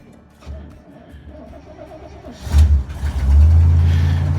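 A big Dooley truck engine that has sat idle for a week or two, on a slack battery, cranks and fires up. A quiet lead-in builds to a loud, rumbling start that settles into a close, heavy idle.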